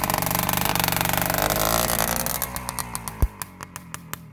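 A 1972 Penton Mudlark 125cc two-stroke trials motorcycle runs close by, a dense rapid engine buzz that settles into slower, spaced idle pops toward the end.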